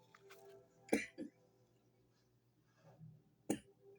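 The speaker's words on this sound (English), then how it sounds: "Where that cough is coming from" A woman gives a few short, quiet coughs and throat-clears spaced apart in an otherwise hushed indoor room, with no talking.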